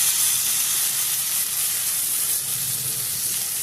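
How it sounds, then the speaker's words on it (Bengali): Fried morola fish dropped into a pan of spiced potatoes frying in oil, giving a steady, bright sizzle that hisses evenly throughout with no talking. "এবার যে ভেজে রাখা যে মাছগুলো ছিল সেই মাছটাও আমি এর মধ্যে দিয়ে দেবো।"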